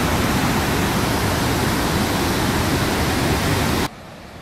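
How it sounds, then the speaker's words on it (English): A large waterfall heard from its top side in the Quetico area, a loud, dense, constant roar of falling water that cuts off abruptly near the end. "This is a really cool waterfall here."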